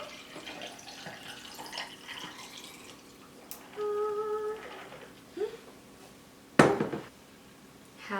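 Homemade strawberry acai refresher poured from a spout into a glass, a short glugging splash near the end after clinks and faint liquid sounds, with no talking.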